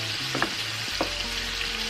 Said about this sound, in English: Stir it around and kind of scrape off the bottom of your pan